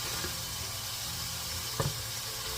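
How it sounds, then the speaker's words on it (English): A soft, steady sizzle of meat frying in a pan, close by, with a faint clink of a utensil near the end. "Now it's been sizzling for a second."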